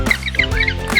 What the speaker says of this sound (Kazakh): пингвин